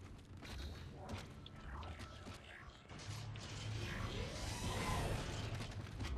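Mechanical elevator ride in the Dead Space video game, with continuous creaking and groaning machinery, low rumbling motion and metallic clanks that build louder toward the end, no voices.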